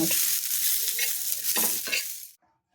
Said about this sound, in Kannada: ಚೆಂದ ಫ್ರೈ ಮಾಡ್ಕೊತೀನಿ ನೋಡಿರಿ